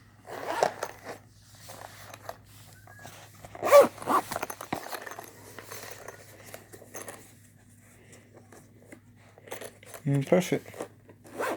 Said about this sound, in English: Close the case. And yeah, zip it up.